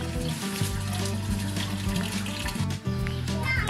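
An LG washing machine drains water, a steady gurgling trickle and rush of liquid with a low, droning hum underneath, close and fairly loud.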